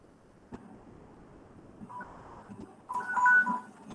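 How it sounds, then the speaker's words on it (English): A telephone rings with an incoming call, a short electronic tone sounding twice over quiet room hum and growing louder on the second burst. "I've got a phone call."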